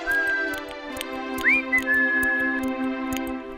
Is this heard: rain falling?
no